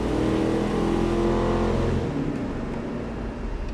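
A rebuilt Ford 460 V8 roars loudly at high revs on a dyno, holding a steady heavy drone that eases slightly toward the end, with no talking.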